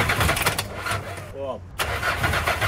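A car engine with smoke coming from around the EGR valve revs hard close by, a loud sustained roar that dips briefly before surging again, with a short spoken word in the middle.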